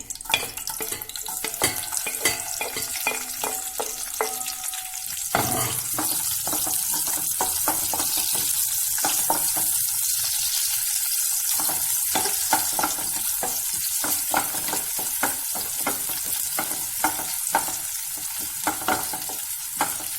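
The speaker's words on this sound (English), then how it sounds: "We have to deep fry this onion." Onion deep frying in hot oil for sambar, a steady crackling sizzle with bursts of bubbling and occasional stirring scrapes, loud and close throughout, no talking.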